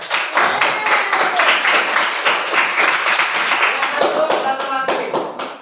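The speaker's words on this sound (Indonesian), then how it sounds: "Mana tepuk tangannya?" An audience in a teacher-training class claps together in a dense burst of applause that stays loud and steady for several seconds, with individual hand claps audible throughout.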